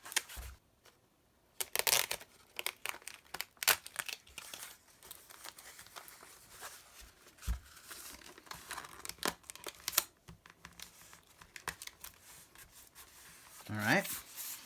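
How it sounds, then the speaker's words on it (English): Packing tape pulled and pressed along the edges of a DVD shipping package, irregular crinkling, ripping and rubbing bursts close by, with a faint voice at times. "Now I have to tape all of the edges, and I want the edges to sit tight so there's not an opening."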